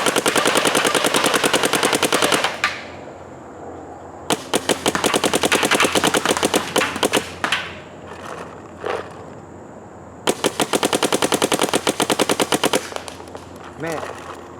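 Rapid bursts from a paintball marker firing pink HK Army paintballs, three long strings of fast, evenly spaced shots broken by gaps and a few scattered single pops, loud and close.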